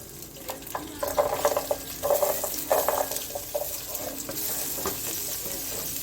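Small onions, green chillies and curry leaves deep frying in hot oil, a steady close sizzle with stirring clatter and scraping rising and falling throughout, no talk.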